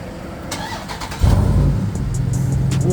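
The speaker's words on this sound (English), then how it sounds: "Big Durango warm start." A Dodge Durango engine warm-starts with a brief crank, then catches into a loud, steady idle rumble that holds to the end, with a few faint clicks and shifts beforehand.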